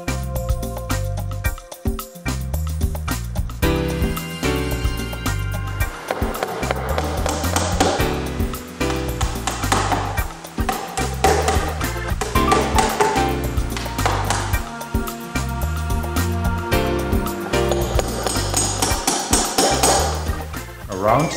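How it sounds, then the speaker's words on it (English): A hammer drives keys into a dovetail joint made on a Hoffmann PU2-TL dovetail routing machine, giving a long run of sharp, close taps and knocks in uneven rhythm with short pauses between bursts. "Now the keys are inserted one by one and driven home with a hammer."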